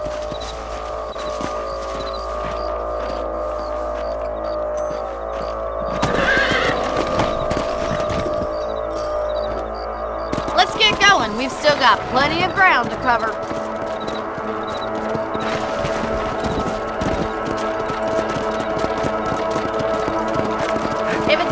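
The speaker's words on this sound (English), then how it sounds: "Let's get back on the horses and see what else is going on." Horses in the Red Dead Redemption video game clip-clop steadily and give a whinny, with a burst of hoofbeats partway through, heard close under a man's speech and game music.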